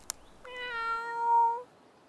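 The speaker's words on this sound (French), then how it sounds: "miaule depuis la branche du vieux chêne" Phébus the cat meows from the branch of an old oak in a garden: a single clear, drawn-out meow rising then fading, alone against quiet after a sharp click.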